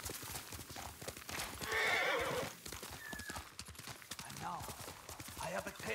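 In the Ghost of Tsushima video game, a horse whinnies loudly while its hooves clip-clop steadily underneath, with a voice talking quietly over it.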